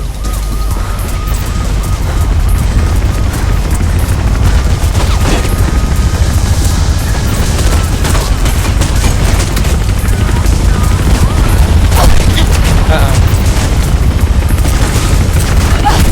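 Sustained helicopter gunfire from a police chopper in the parkour game Mirror's Edge, a loud dense rattle of bursts with booming impacts and low rotor rumble running the whole time, a radio voice speaking briefly.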